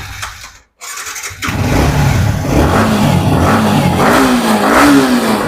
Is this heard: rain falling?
no